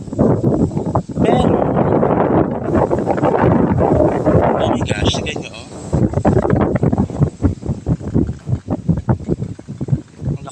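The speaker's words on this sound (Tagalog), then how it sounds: "Ang lakas ng hangin dito." Strong gusts buffet the microphone at a construction site with freshly poured concrete, roaring loud and close through most of the stretch while people talk over it.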